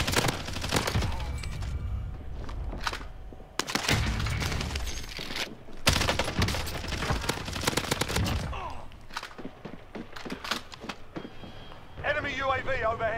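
Gunfire bursts in Call of Duty: Warzone, with loud overlapping shots and rapid fusillades through most of the span, mixed with in-game sounds and a person talking over the action.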